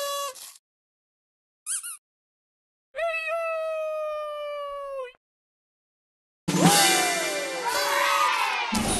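Several cats meow in separate bursts, a short cry, then a longer drawn-out meow, followed by a louder, rougher yowl with background commotion.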